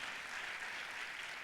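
Congregation applause during a church sermon, a steady broadband wash of many hands clapping at once, sustained evenly throughout without pauses and sounding fairly distant.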